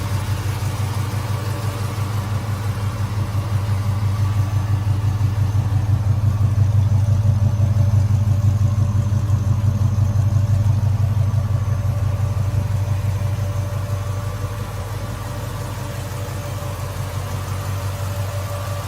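A big V8 engine idles steadily with a deep, lumpy rumble, swelling slightly midway then settling, close and loud throughout.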